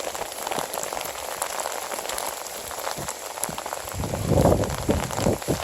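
Steady hiss of a countryside rain shower pattering on a surface, close and constant, swelling louder toward the end, with no voices.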